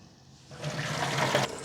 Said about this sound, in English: let's fill our containers again